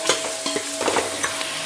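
Mutton pieces with chilli and coriander powder fry in a pan, a close, continuous sizzle broken by repeated scraping stirs of a spoon.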